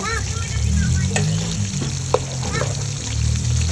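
Vegetables sizzle in a hot pan that is overheating at the bottom, while a ladle stirs with occasional scrapes and clinks, close and steady throughout.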